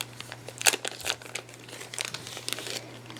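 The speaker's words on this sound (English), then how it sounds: "the actual Seagate drive, nicely packaged in a protective plastic bag." A protective plastic bag crinkles and crumples as it is pulled off a Seagate Backup Plus Slim 2TB portable USB 3.0 hard drive, with close, irregular rustles and a sharper crackle partway through, and no talking.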